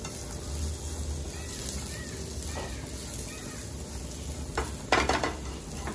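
A filling for crepes sautés in a pan while being stirred, with a soft continuous sizzle, light scraping and a couple of louder utensil clatters near the end, close up with faint voice underneath.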